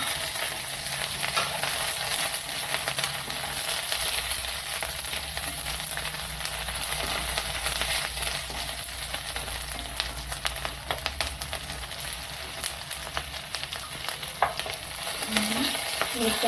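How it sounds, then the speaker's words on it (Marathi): Ginger and green chillies sautéing with browned coconut in a pan for a Maharashtrian festive meal, a continuous close sizzle with occasional stirring clicks and scrapes, no talking. "आलं टाकलं का हिरव्या मिरच्या टाकायचा थोडासा परतून घ्यायचा"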